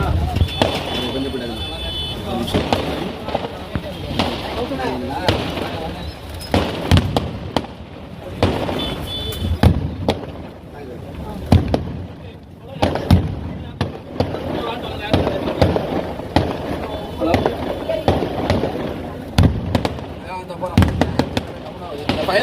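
Fireworks bursting at the Nagore dargah Kandoori festival flag-hoisting celebration, a dense run of sharp cracks and pops crowding one another, loud and close over constant crowd noise and a voice speaking throughout.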